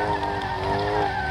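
A 3.5-litre, 211-horsepower BMW 5 Series drifting at a drift show in Lublin, with a steady loud tire squeal over engine roar, continuous and close.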